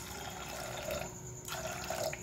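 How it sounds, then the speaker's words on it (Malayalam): Water pours into a pressure cooker over soaked beans for pumpkin erissery, a continuous near splashing stream that briefly eases midway and then resumes. "ഇനി ഇതിലേക്ക് നമുക്ക് നമ്മുടെ പയർ വേകാൻ ആവശ്യമായിട്ടുള്ള വെള്ളം ഒഴിച്ചു കൊടുക്കാം."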